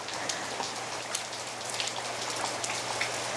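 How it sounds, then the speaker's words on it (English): Rain pours steadily in a lobster-fishing town, a dense, close patter of drops striking surfaces with small splashes scattered throughout and no talking. "The rain."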